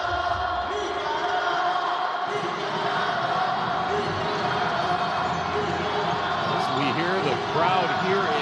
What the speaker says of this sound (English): Crowd here in Poli Deportivo Alexis Arguello starting to make some noise